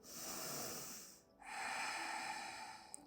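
Deep nasal breathing during a yoga session: a long, close, airy inhale, a short pause, then another sustained breath, with no talking.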